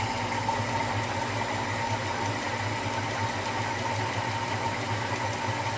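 A Maxant honey extractor spins honey frames, giving a continuous, even mechanical drone with a low rhythmic hum and whir, steady and close throughout.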